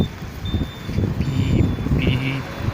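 A reversing vehicle gives a few short, high electronic beeps outdoors over a low engine rumble and some wind noise.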